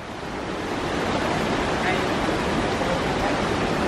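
An outdoor stream flows steadily at a picnic spot, a broad continuous rushing wash of water that stays loud and even from start to finish with no talk over it.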